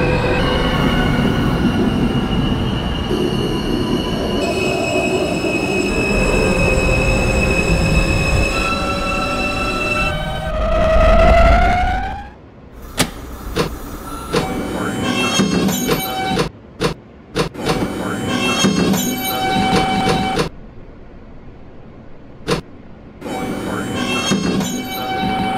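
A simulated R160A subway train on the NYC L line hums and rumbles, its motor whine rising in pitch as it pulls away from Broadway Junction, followed by rhythmic clicks and clunks over the track joints.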